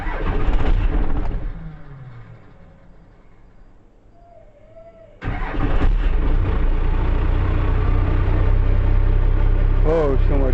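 A Cummins 12-valve diesel truck engine cranks after a fuel filter change, then catches and settles into a loud steady rumbling run, with someone talking near the start.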